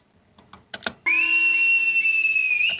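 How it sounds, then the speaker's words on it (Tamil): Whistle sound effect played from a DJ sampler in Ableton: a few short percussive hits, then a loud, steady, high whistle tone held for nearly two seconds. "விசில்"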